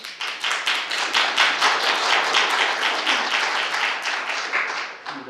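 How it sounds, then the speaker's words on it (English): An audience claps steadily in a continuous burst of applause filling the room at a city plan commission meeting, fairly loud and sustained before fading slightly at the end. "Please hold your applause."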